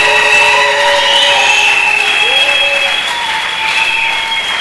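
A church congregation applauding in praise, dense continuous clapping with tonal music or organ lines running through, loud and close throughout.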